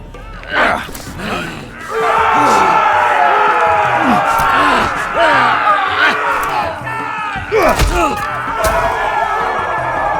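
An arena crowd in the Game of Thrones Telltale video game roars and cheers loudly and continuously, with shouts, whoops and a sharp crash partway through.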